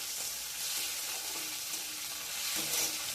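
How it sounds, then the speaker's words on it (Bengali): Fish innards and fish bladders sizzle steadily in fresh fish oil while being stirred, a continuous close frying hiss with faint scraping of the stirring, no voices. "দিয়ে এইবার সব একসাথে নাড়াচাড়া করে এটাকে একটু ভাজা ভাজা করে নেব।"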